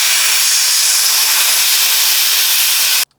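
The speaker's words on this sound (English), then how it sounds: "I'm going to let some air out so that I go down to 30 psi on it." Air hisses out of an air compressor tank in one steady, loud, close rush for about three seconds, then cuts off abruptly.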